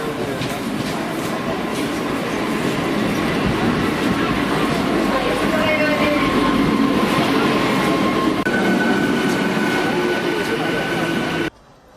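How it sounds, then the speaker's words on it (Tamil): A Chennai suburban air-conditioned electric train on the Chennai Beach to Chengalpattu line rumbles steadily with a broad, loud roar and faint rail squeals, with voices talking over it, before cutting off abruptly at the end. "சென்னையின் முதல் குளிர்சாதன புறநகர் ரயில் சேவை இன்று முதல் தொடங்கியது"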